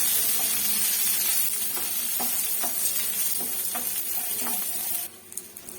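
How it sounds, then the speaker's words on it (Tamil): Shallots, green chilies, ginger, garlic and dried chilies sautéing in a pan over a slow flame for coriander chutney, a loud close sizzle with repeated spatula scrapes, ending abruptly. "சின்ன வெங்காயம் பச்சை மிளகாய் இஞ்சி பூண்டு காஞ்ச மிளகாய் இதெல்லாம் நல்லா வதக்கிடுங்க"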